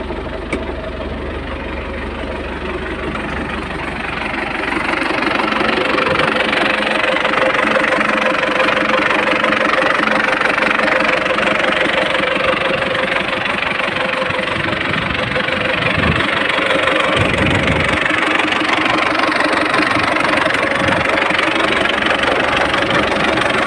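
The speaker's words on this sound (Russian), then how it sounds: "Двигатель работает ровно" An MTZ 892 tractor diesel engine idles steadily, its low knocking chug continuous and fairly close, growing a little louder after the first few seconds.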